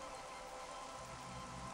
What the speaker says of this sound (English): That is a nice rain effect.